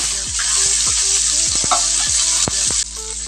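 Onions sizzling in a hot pan, a dense continuous frying hiss broken by several sharp spatula knocks and scrapes against the pan, close and fairly loud.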